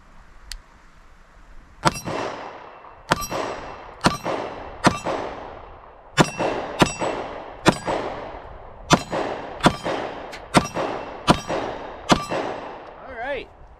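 Taurus PT111 Millennium G2 pistol firing at close-range steel targets outdoors: about a dozen sharp, loud reports, each followed by a ringing metallic clang, at an irregular, deliberate pace.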